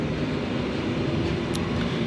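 Glacier Express panoramic train in Switzerland starting to depart, a steady low rumble and broadband hum of the moving train, continuous and fairly close, with a brief faint high tone midway.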